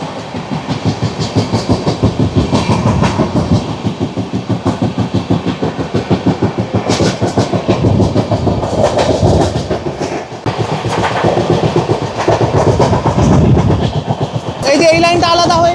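Riding aboard the Howrah–New Jalpaiguri Shatabdi Express 12041 as it speeds through Masagram station: a loud, close, continuous rhythmic clatter of wheels over rail joints with a steady rumble and hiss throughout.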